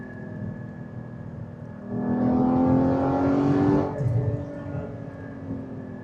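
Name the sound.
Porsche 981 GT4 sports car engine revving while driving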